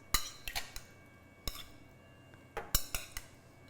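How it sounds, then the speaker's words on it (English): Diced butternut squash tipped into a risotto pan with a spoon, a few sharp clinks and scrapes in quick bursts separated by quiet pauses, close and fairly soft. "At this point, I'm gonna add in my squash"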